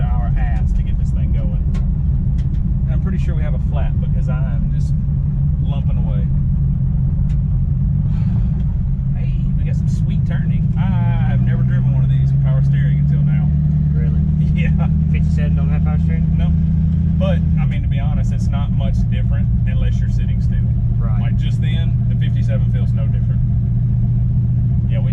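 A 1955 Chevy rolls along at low speed with a lumpy, uneven-idling engine, a loud, constant low rumble that shifts in pitch midway while people talk over it inside the car.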